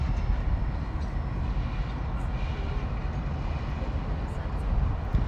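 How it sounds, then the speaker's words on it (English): An EMD SD7 diesel locomotive runs during switching work, a continuous low, rumbling engine drone that stays steady and fairly loud for the whole stretch, with faint voices in the background. "the SD7 sure does sound great"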